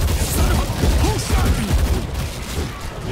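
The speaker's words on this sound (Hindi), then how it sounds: "मैं मशीन गन चला रहा हूँ" Sustained machine gun fire in the zombie shooter World War Z, a dense rattling barrage of shots throughout, loud and near, mixed with chaotic game noise and faint voices beneath.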